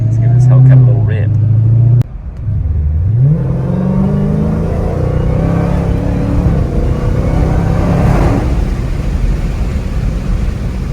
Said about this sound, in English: Let's give this Hellcat a little rip